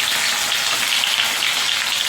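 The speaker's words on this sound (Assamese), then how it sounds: "অলপমান ভাজি ল'ম এইখিনি।" Onions sizzle steadily in a hot pan as the first step of a chicken pulao, a dense, even frying hiss that stays constant throughout with no voices.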